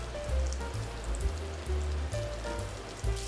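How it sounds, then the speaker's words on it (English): Butter sizzles and melts with sprigs of fresh rosemary in a hot cast iron pan, a steady soft crackle with faint pops and low hum underneath, no voices. "heat up a cast iron pan. We'll add about 3/4 stick of butter, and then add a couple pieces of fresh rosemary"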